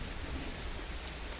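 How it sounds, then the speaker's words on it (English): Steady rain falls in a dense, even hiss with no breaks, soft and continuous throughout. "This is rain."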